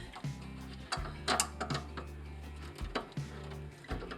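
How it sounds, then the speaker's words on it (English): Metal wrench clicking and scraping on faucet nuts while a Kingston Brass widespread bath faucet is snugged down, close and intermittent, with low hum in the background. "it's just a matter of tightening them up with a wrench"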